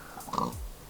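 A pig in the Minecraft video game gives a single short oink and grunt, close and clear.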